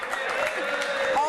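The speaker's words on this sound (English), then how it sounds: "Give us a whoop, the crowd from Limerick." A studio audience from Limerick whoops and cheers for a moment, a burst of mixed crowd voices and clapping with a presenter's voice rising over it.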